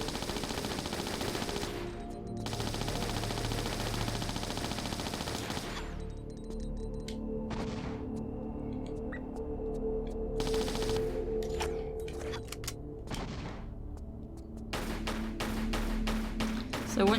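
Sustained automatic fire from an Uzi in a Tomb Raider fan-made level, long loud bursts with short pauses, then a run of sharp separate shots toward the end.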